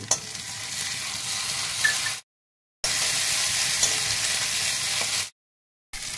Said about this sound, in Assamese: এতিয়া মই ইয়াতে জালুক আৰু জিৰা পেষ্টটো দি দিছোঁ আৰু এইখিনি মই এতিয়া ভালকৈ ভাজি ল'ম